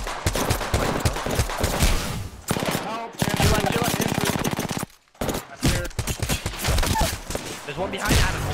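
Rapid automatic gunfire from the Apex Legends video game, dense bursts filling most of the stretch with a brief pause midway, with players' voices talking over the shooting.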